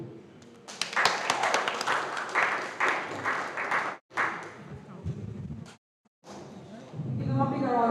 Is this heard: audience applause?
yes